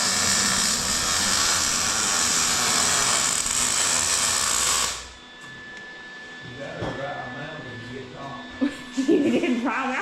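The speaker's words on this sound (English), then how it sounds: "the guys are back cutting the metal again" A power tool cutting metal in a fabrication shop roars loudly and steadily for about five seconds, then cuts off abruptly, leaving quieter shop clatter and faint movement sounds.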